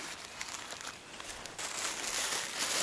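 Plastic waste bag crinkling and crackling as it is rolled up on a hiking trail in Japan, a close, continuous rustle that grows fuller and louder partway through.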